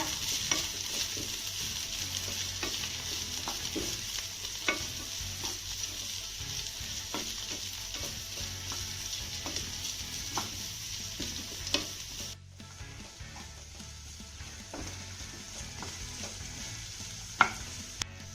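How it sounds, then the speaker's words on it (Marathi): Chopped cabbage and carrot sautéed in a pan for a quick wheat-flour breakfast, a steady soft sizzle and frying hiss with repeated stirring scrapes and light utensil clicks throughout, close and without talk. "त्यानंतर ह्या सगळ्या भाज्या आपल्याला छान अशा मौसूत होईपर्यंत परतून घ्यायच्या"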